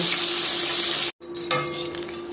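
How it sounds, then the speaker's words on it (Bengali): Fish heads fry in hot oil in a kadai for a bottle gourd curry. A steady, close hiss and crackle is broken by a brief silent cut, then resumes a little brighter. "এই যে মুড়োগুলো আমি ভালো করে লাল লাল করে ভেজে নিয়েছি।"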